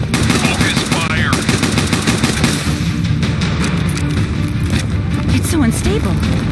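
Loud, dense gunfire from the video game Bright Memory rattles in rapid automatic bursts throughout, with booming impacts layered over game sounds and voices talking.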